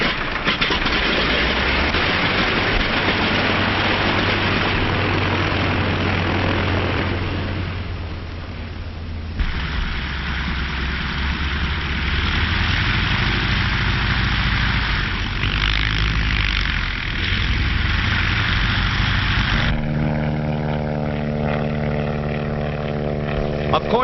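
Light, fast 1930s propeller planes used for sky billboards, a loud continuous engine drone that fades briefly then returns, later with a rougher throbbing tone, old narrow-band recording with voices mixed in.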